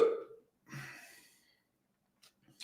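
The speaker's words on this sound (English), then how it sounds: "Hiccups." A single hiccup bursts out near the start, followed by a short breathy vocal sound, then near-silence with a couple of faint clicks at the end.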